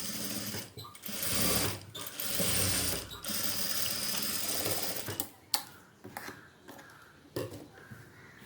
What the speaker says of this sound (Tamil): இந்த இடத்துல 2 தையல் போட்டுடணும்.